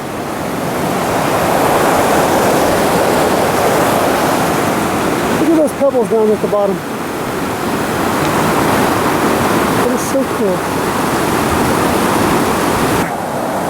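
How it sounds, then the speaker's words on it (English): The Merced River's water rushes steadily over worn granite just above Yosemite Falls, making a broad, continuous roar that stays loud from start to finish while people talk close by over it. "Behind me is the river before it goes down over the falls"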